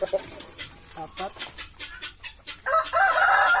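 A Basilan chicken crossed with a black Australorp clucks and crows close by in several short bursts, ending in a louder sustained crow.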